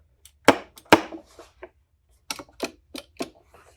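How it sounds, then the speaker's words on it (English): The wheel position switches of a Roborock robot vacuum make crisp, close mechanical clicks: two sharp snaps, a short pause, then a second cluster of four or five lighter clicks in a near-silent room. "That's the sound of the switches that tell the robot what position the wheel is in."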